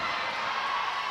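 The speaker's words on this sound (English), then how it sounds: "you can hear the crowd here." A crowd at a North Georgia women's wrestling tournament opening match roars in a steady, dense wash of cheering and shouting that holds throughout without a break.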